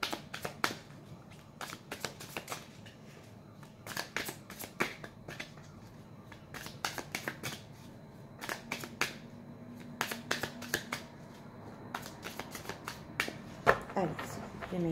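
Tarot cards being shuffled by hand, with repeated crisp riffling bursts at an irregular pace, close and fairly quiet, while a person talks softly underneath.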